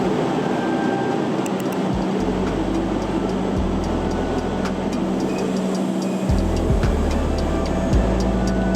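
Train at Yogyakarta station in Indonesia, a loud steady rumble with low mechanical droning that shifts in pitch, with no voices over it.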